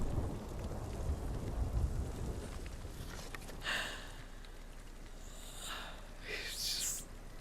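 In Ghost of Tsushima, thunder from a lightning strike rolls as a broad, steady rumble through a rain-like wash of game audio, with a few brighter crackles toward the end and no voices.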